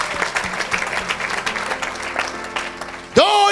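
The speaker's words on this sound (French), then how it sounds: "Donne une grande acclamation au Père qui est descendu du ciel" A church congregation claps during a lively French-language evangelical service, with uneven rapid hand claps over a room murmur, and a loud voice cutting in at the very end.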